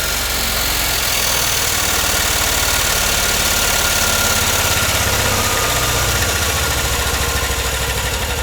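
A 1957 BMW Isetta 300 engine idles steadily and loudly, with an idle that tends to hang up, a constant low rumble with faint mechanical vibration throughout, no voices.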